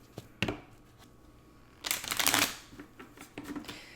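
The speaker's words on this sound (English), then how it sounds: "Let me just do another shuffle here." Quiet rustling and slapping of tarot cards being shuffled, with a brief soft tap, then a louder riffling flurry and a few lighter shuffles after.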